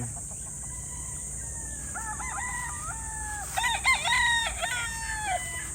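Gamefowl roosters crow at a game farm, with several overlapping cock-a-doodle-doo calls from nearby birds and the loudest crows coming in the second half, over soft background clucking and a high, steady hum.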